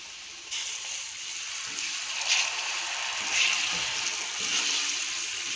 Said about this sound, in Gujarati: થોડું આપણે આમાં પાણી એડ કરીશું